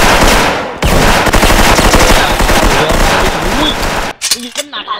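Heavy gunfire in a video game match, loud sustained machine-gun bursts in rapid rhythm for about four seconds, then a sudden cut to quieter sounds with a voice briefly heard.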